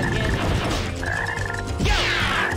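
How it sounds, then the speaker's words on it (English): A black frog croaks in the video game Sonic Heroes, a few loud, close, warbling croaks repeating over game background sounds. "There's that black frog again!"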